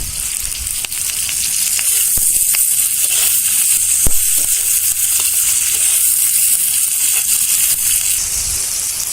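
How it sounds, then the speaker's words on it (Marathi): Green chillies roasting in about four spoonfuls of oil for a village-style kharda: a continuous close sizzle and crackle with occasional sharp pops and light stirring scrapes. "आपण आता या मिरच्या भाजून घेऊया आता याच्यात एक चार चमच तेल घाले"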